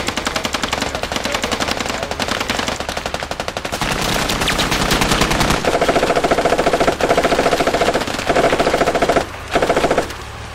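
A gunner's machine gun hammers away in a video game firefight, loud continuous rapid bursts with brief pauses, close and dominant throughout.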